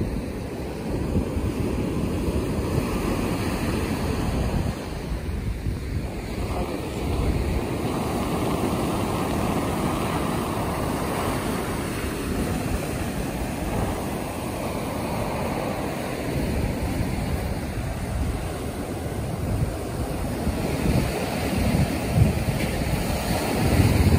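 Ocean waves breaking on the beach at Liwliwa, San Felipe, Zambales, a continuous low roar of surf with heavy wind buffeting the microphone, steady and fairly loud with no talking.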